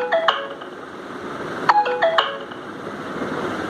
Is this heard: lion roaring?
no